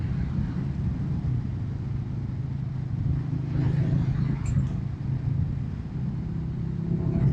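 A Royal Enfield Classic 350 motorcycle engine drones steadily on the road as the rider accelerates, a low continuous rumble mixed with wind, with no clear talking over it.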